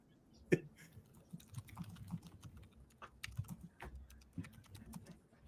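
Close, busy typing on a computer keyboard suspected of having a faulty key, with irregular bursts of key clacks and occasional sharper strikes continuing without pause.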